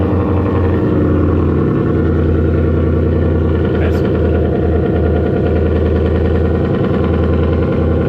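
The original engine of an antique Daytona Lark with a 4-speed manual runs at a steady rumbling idle at an outdoor car show, loud and continuous, with faint background voices.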